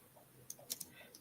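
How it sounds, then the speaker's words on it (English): Faint, sparse keystrokes on a computer keyboard tap in a quick irregular cluster of a few clicks, close but quiet, with no talk. "I'm typing"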